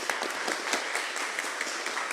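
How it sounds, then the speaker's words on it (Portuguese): A church congregation at an elder ordination service gives a brief, steady round of dense applause from many hands in a reverberant room. "Pode ter uma salva de palmas para Jesus?"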